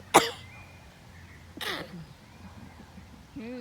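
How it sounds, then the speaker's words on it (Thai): A woman sneezes close to the microphone in a sharp burst, then gives a second, softer sneeze-like exhale moments later, followed by brief vocal sounds. "โอ้จะจาม"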